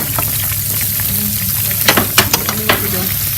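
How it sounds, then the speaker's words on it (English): Chopped onion sauteing in oil with garlic for pancit bihon, a steady close sizzle with a few clinking stirring taps near the end, no voices. "Now she's adding her chopped onion."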